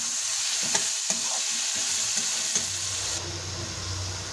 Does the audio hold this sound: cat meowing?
no